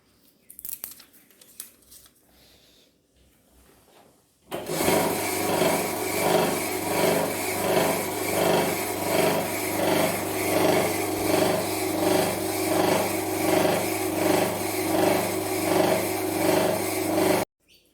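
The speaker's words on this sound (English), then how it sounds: "Let me show you how faster it rotates and obviously grinds compared to the regular tomek." A fast-rotating Tormek-style water-stone sharpener grinds a knife blade, a loud steady rasping whine with a rhythmic pulsing that runs continuously after a quiet opening.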